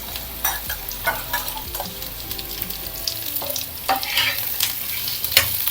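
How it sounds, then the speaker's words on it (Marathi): Chopped onion frying in hot oil in a home kitchen, browning until golden, with a steady close sizzle broken by repeated scraping stirs of a spoon against the pan. "तर हे कांदा टाकलाय, त्याला कसं करायचं म्हणजे गोल्डन ब्राऊन पर्यंत कांदा"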